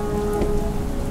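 Heavy rain pouring down as a sound effect, a dense loud continuous hiss and patter with no voices, steady throughout.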